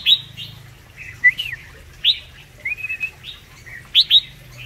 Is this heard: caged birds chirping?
yes